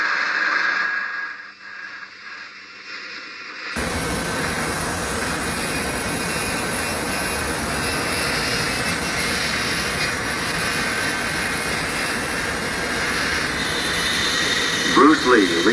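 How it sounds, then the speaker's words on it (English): A jet airplane roars steadily and loudly as it takes off from Hong Kong in summer rain, following a brief stretch of quieter sound, with voices at the start. "His plane, obscured by swirls of summer rain, lifts off"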